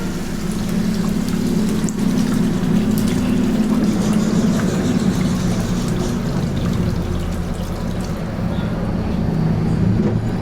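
Broth poured into a pot of chicken curry with new potatoes, a steady rushing pour with bubbling that runs continuously and fairly loud throughout, close by with no talk.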